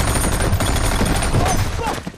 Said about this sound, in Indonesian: Saat itulah Jay melemparkan granat dan memberondong mereka dengan tembakan